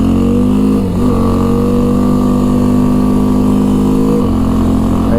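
An ATV engine running hard and loud at close range, a steady droning roar whose pitch dips briefly twice as the machine shifts gears, then climbs again.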